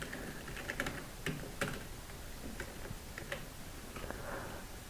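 Steady typing of PHP code on a computer keyboard, a close, quiet run of irregular key clicks with a few sharper taps over a soft background hiss.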